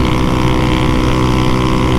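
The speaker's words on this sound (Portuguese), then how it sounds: "Com esse escapamento vazando com pressão, só na Suzuki." A Suzuki Fan 150 motorcycle riding along near a coastal town, its engine droning loud and steady with a leaking exhaust, mixed with heavy wind rush and no pauses.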